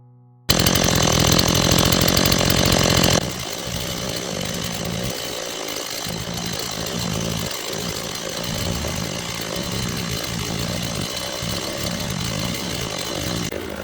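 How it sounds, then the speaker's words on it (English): A chainsaw roars loudly at first, then settles into a steady buzzing drone as it cuts through wood, close and continuous. "With the chainsaw, the first cuts are made, dividing the log and setting the shape of the base."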